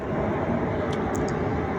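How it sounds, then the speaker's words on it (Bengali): A steady, loud rumble of a train passing close overhead at Mawa, broadband and continuous throughout with no pauses. "হঠাৎ করে আবার ট্রেন যাচ্ছে উপর দিয়ে ট্রেন যাচ্ছে"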